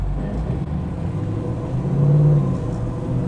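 A steady, loud engine rumble from inside a 1968 Chevrolet Camaro SS restomod, swelling briefly as it accelerates and shifts gears.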